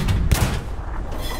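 A tank cannon fires once in the Hell Let Loose video game, with a single loud, booming blast early on that rolls off into a low rumble.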